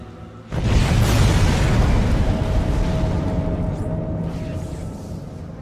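An explosion in the 2008 video game Dead Space hits with an abrupt, heavy boom, then a loud, muffled rumbling roar that slowly tapers off over several seconds.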